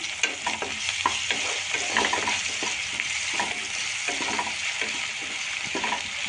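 Ginger garlic paste with a little salt frying in a pan for rajma curry gives a continuous close hiss, dotted with regular light clicks and scrapes of a spoon stirring.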